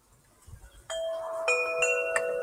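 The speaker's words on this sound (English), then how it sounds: "With the wind chimes." Wind chimes ring out as several clear, sustained metallic tones struck one after another, each note lingering and overlapping the next, fairly close and alone over quiet background.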